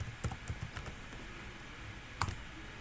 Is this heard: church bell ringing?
no